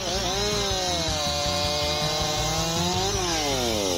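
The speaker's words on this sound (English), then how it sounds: "The versatility and ease of use of the Makita EA 7900 handheld chainsaw makes wood cutting easier than ever." A Makita EA7900 handheld chainsaw cutting wood, its engine whining loud and continuous up close with a slight shift in pitch partway through.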